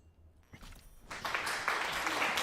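Applause sound effect playing on a live stream, starting quietly then swelling into dense clapping after the first second and holding steady to the end.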